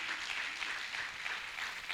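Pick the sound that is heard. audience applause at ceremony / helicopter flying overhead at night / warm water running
audience applause at ceremony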